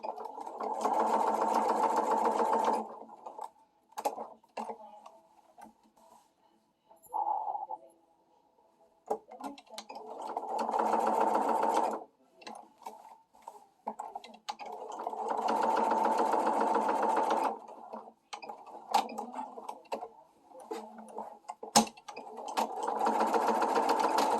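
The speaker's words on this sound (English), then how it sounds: "you throw it through the sewing machine" Sewing machine stitching a seam on a flutter-sleeve garment, running in steady whirring bursts of several seconds separated by pauses with handling clicks and rustles, fairly close and moderate in volume.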